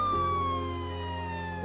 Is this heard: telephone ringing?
no